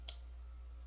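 A single soft mouse click, close and faint, over a steady low hum.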